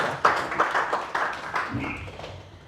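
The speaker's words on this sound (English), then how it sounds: "a round of applause for Dr. Bamidele" Scattered clapping from an audience greeting Dr. Bamidele at a climate education talk: a few sharp claps, then a thinning patter that fades within a few seconds.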